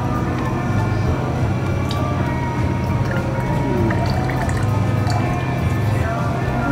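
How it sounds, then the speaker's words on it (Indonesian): Lemon juice pours and drips into a glass for a coffee drink in a café, a steady liquid trickle over a constant background hum. "jadi lemonnya dulu dituang dulu baru nanti di atasnya kopi"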